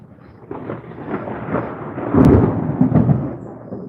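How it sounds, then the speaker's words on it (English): Thunder from thick lightning clouds rolls as a low, heavy rumble. It builds in strength and peaks in a deeper, louder surge toward the end, with no talking over it. "There are thick lightning clouds. That's going to be a thunder."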